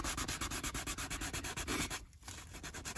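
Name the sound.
sandpaper sanding filler on a Jaguar XJR leather seat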